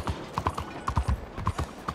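Horse hooves clip-clop in a quick, even rhythm on a hard surface in the video game Red Dead Redemption 2, close and clear, with no talking over them.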